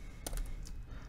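A few quick, faint clicks of keys being tapped on a computer keyboard while typing code, brief and close with no voices.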